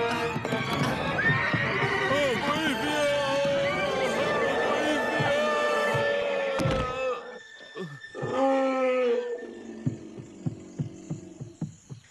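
Horses neigh and whinny over hooves clip-clopping in a Greek radio-drama adaptation of Jules Verne's The Southern Star, with loud, busy galloping and calls up front, then a pause and sparser hoofbeats with a final whinny as voices speak around them.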